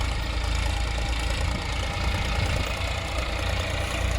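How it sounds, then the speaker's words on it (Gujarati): A tractor engine runs steadily while harvesting turmeric, with a low, continuous rumble and knocking throb, close and fairly loud, with no talking. "આ ટ્રેક્ટરની મદદથી આપણે હળદર કાઢવાનું કામ ચાલુ છે"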